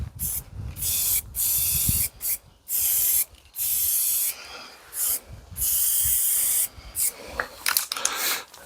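An aerosol spray paint can, held inverted outdoors, sprays in a string of short hissing bursts to clear its nozzle, loud and close with brief gaps between each spurt.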